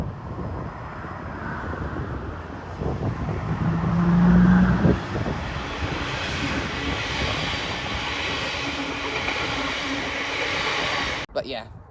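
A passing Class 385 electric train on the Edinburgh and Glasgow Railway rumbles and hums steadily with a broad roar that swells and fades, ending in a brief clatter.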